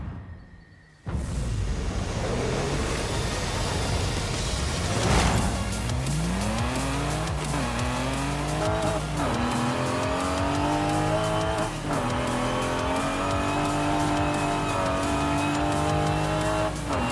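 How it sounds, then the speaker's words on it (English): An old-fashioned straight-six car engine in GTA V starts up and drives, revving through rising and falling gear changes with a smooth, steady drone, close and loud with no talk. "An old-fashioned straight six."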